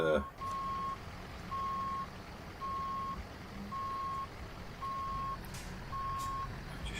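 An American Truck Simulator truck with trailer backs up, its reversing alarm sounding six steady evenly spaced beeps over a low engine rumble, with faint background noise.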